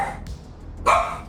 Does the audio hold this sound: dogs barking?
yes